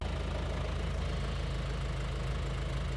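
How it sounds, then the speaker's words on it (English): A John Deere 2650 tractor engine runs at a steady idle, with a constant low rumble and faint knocking throughout. It stays close and even, with no talk. "so you have to have the tractor running."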